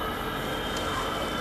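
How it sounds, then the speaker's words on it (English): An oncoming train rolls past on the opposite track with a steady, loud rumble and metallic wheel hiss throughout. "that's the other train coming from the other way."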